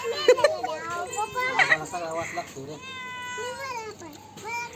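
A cat meows near fish being cleaned at a family home, its drawn-out rising calls standing out at close range over children's chatter and other voices.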